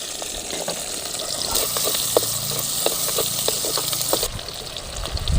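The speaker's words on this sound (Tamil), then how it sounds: "வெங்காயத்தை நல்லா வணக்கி எடுத்துக்கணும்." Chopped small onions sizzle steadily in a few spoons of hot oil, a close, continuous frying hiss with scattered pops and crackles and no voices.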